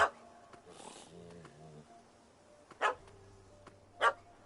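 A dog barks in The Witcher video game on PS4, a few sharp barks at separate moments, fairly near, between quieter game sounds and low background tones.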